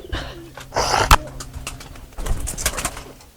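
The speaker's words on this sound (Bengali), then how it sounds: "আর কোন কবুতরটা তুমি দেখাইতে চাইতেছো" Pigeons of various breeds coo at a farm, heard as several soft, low, throaty coos at close range, mixed with some flapping and rustling and a brief louder knock.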